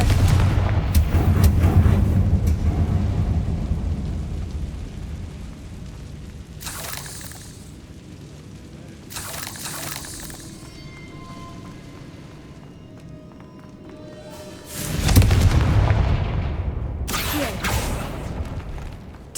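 Repeated Confringo fire-spell blasts in the Hogwarts Legacy video game: loud booming explosions that open the clip, return in bursts mid-way and hit hard again near the end, with a lower rumbling lull in between.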